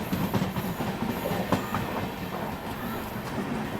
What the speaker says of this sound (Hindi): तो ये अपनी वाली ट्रेन है